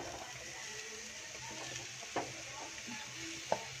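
Potatoes added to sizzling, well-roasted masala in a pan and stirred: a faint, steady frying hiss with a couple of soft knocks from the spoon.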